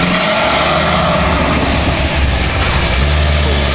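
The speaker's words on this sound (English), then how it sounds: "Little garage cold start." A BMW M4 cold-starting inside a garage roars with a loud, dense, continuous engine drone, deep low rumble dominating and staying steady throughout, with a slight dip partway before surging again.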